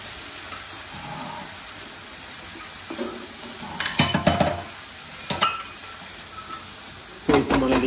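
Spinach simmers in a pot with a steady soft sizzle, broken by a few clattering stirs of a utensil against the metal, close and moderately loud.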